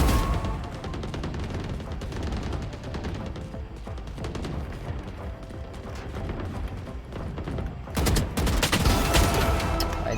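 Continuous video game gunfire fills the scene with dense, rapid shots and crashes, with no letup, and a louder, harsher volley near the end; no one speaks.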